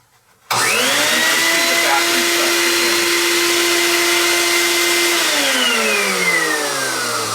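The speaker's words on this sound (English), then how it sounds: "I plug in the shop vacuum." A shop vacuum fitted to the drain hole of a papermaking sink switches on abruptly after a brief quiet moment, then roars at a loud steady whine before its pitch sags and drops toward the end.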